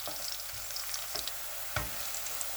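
Garlic frying in oil in a pan for chicken karahi gives a steady, soft sizzle with light crackles and a few stirring scrapes, heard close and without talk.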